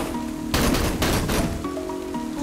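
Gunfire from the video game Lost in Blue: a dense burst of rapid shots around a second in, then a second volley, loud over a steady game music background.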